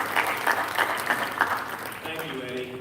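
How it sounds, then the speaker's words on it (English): Audience applause at a boxing press conference at Madison Square Garden, a full round of clapping that carries through before fading as the room settles. "Ladies and gentlemen, a round of applause for Madison Square Garden,"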